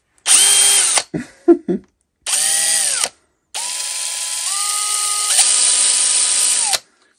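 An electric drill fitted with a 1 mm Parkside HSS bit whirs loudly in several bursts: a first spin-up, short clicking chuck sounds, then two longer runs with steady whining tones that shift pitch, close by.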